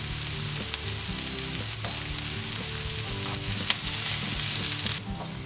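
Eggplant sizzles in a pan over low heat, a steady, close frying hiss with occasional light stirring clinks, alone without talk.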